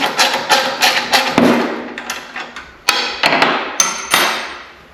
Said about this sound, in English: Turn my ratchet to loosen. I'm just going to loosen this bolt up.